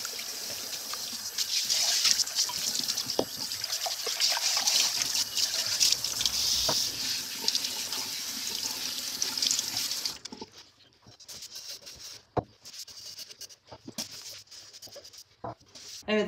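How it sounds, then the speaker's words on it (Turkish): Tap water runs steadily into a sink while orchid flower pots are washed, a broad hissing stream for about ten seconds, then cutting off to quieter handling clatter and faint trickles. "Ben şimdi saksılarımı yıkamaya devam ediyorum"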